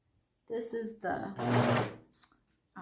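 A sewing machine runs in a few short bursts to back stitch a fabric face mask, with close mechanical stitching chatter separated by brief pauses.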